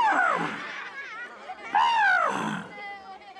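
A person imitates a lion's roar with two long, throaty, rising-and-falling vocal growls, close and loud, separated by a short pause.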